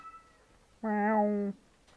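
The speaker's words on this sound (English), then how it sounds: "Kitty cat." A cat meows once in the Skyrim Lorerim mod, a single drawn-out, clear cry of under a second that rises slightly and then falls, with faint background ambience before and after.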